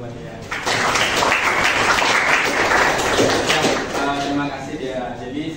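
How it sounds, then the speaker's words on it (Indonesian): Classroom applause for a student, a dense burst of many hands clapping that starts abruptly after half a second and carries at steady loudness to the end, with voices talking underneath. "tepuk tangan dulu buat dia"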